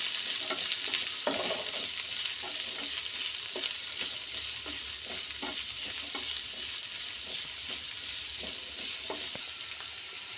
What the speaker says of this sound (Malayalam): ഇത് നല്ലപോലെ വഴറ്റി കൊടുക്കുക.